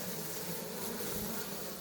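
Honeybees in a wintering horizontal hive give off a steady, even hum, a close and continuous drone without talk.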